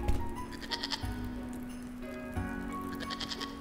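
A goat bleats in a video game ritual scene, with two wavering bleats, one early and one near the end, sounding over a steady low game hum with no speech.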